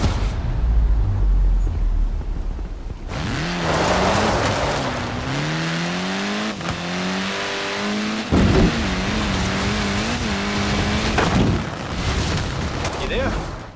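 A Koenigsegg hypercar in Forza Horizon 4 roars along with rising and falling engine tones through repeated gear shifts, loud and close, alongside game ambience.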